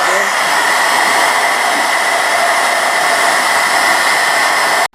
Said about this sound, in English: let's blow dry